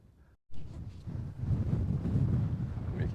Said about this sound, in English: You can hear me okay in this wind.